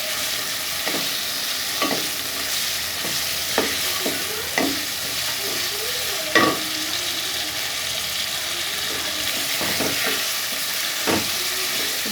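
Mutton karahi sizzling and frying in a pan while being stirred, a constant hiss broken by repeated scraping and clanking strokes of the utensil, close and loud with no speech.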